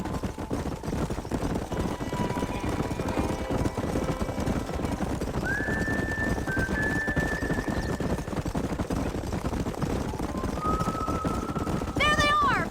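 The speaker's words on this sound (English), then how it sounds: "Let's go rope some horses just like in the good old days" Horses gallop in the Red Dead Redemption video game during a roundup, their hoofbeats a continuous rumbling clatter under the action, with a few brief whistling tones rising above them.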